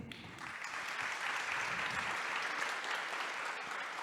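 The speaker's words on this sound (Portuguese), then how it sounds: "Aplausos." A crowd at a public sustainability panel event applauds in a thick, continuous wash of clapping that swells slightly and stays even and moderately loud throughout.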